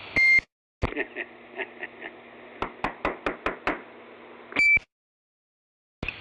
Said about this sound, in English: Maybe I'll knock on the wall so I think it's a door.